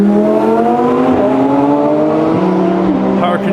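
Lamborghini Huracán and Porsche GT3 RS supercars passing together on a German road, loud overlapping engine roars with shifting pitch and a gear change near the end.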